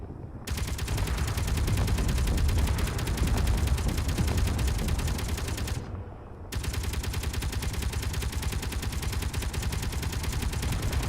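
Rapid, dense barrage of rocket fire in an action video game, continuous and loud, broken by a brief pause near the middle before the volley resumes at full intensity.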